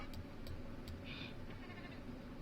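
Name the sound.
sheep bleating in the video game The Sims 4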